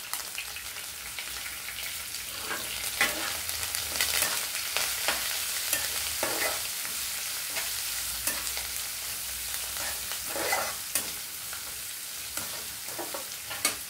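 Onion pieces, green chilli and curry leaves with asafoetida sizzle in hot oil in a pan for a Telugu potlakaya pesarapappu tomato curry, with a constant crackling hiss and intermittent scraping stirs up close, no talking.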